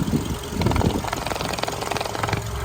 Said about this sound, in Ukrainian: Мотор працює тихо рівно.